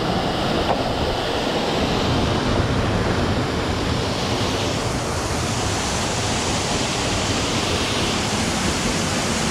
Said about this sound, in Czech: ta voda jede dost rychle